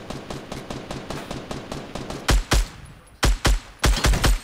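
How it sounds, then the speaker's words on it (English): Gunfire in the Fortnite video game: a rapid stream of sharp shots gives way to several louder, heavier close bursts in uneven clusters, no talking. "We get shot at."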